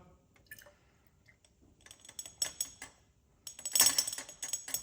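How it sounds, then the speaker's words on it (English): Diluted acid solution is poured from one container into a second in a lab, giving soft intermittent splashes and trickles that build to a louder gush near the end. "So we pour that into the second one."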